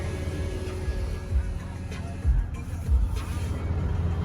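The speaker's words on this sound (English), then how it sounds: "You hear the pump running." A fuel pump runs steadily while it fills a mini excavator, a continuous low mechanical hum with faint tonal whine and a few small bumps, heard close and alone.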